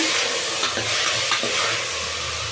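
Vegetables and lentils frying in oil for raw pigeon pea sambar are stirred in a pan, a close, continuous rustling scrape over a constant sizzle.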